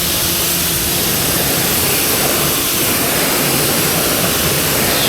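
Giraffe Tools Ultra Flow pressure washer with a white tip sprays water on a car, a loud steady hiss of spray running continuously and close.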